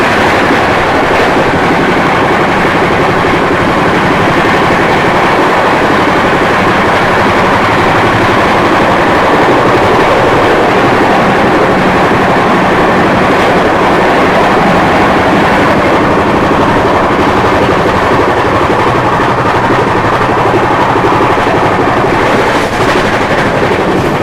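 The LTD Shalimar Express passes at a crossing with a loud, continuous roar of engine and rolling wagons, sustained and close for the whole stretch with no let-up.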